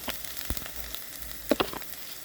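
Dried coriander is stir-fried in a pan: a soft, steady sizzle with a few sharper scraping clicks of a spoon against the pan, close and quiet with no talk.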